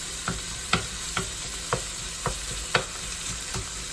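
Ground lamb frying in a pan, broken up with a spatula: continuous sizzle punctuated by about eight sharp, evenly spaced scraping clacks of the spatula against the pan, close and alone.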